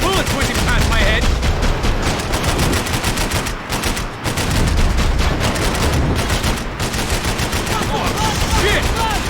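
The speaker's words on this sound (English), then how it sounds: "I can't concentrate with bullets whizzing past my head!" Relentless, dense automatic gunfire from the Max Payne 3 shooter game, rapid shots and bullet impacts cracking continuously at high volume with only brief dips.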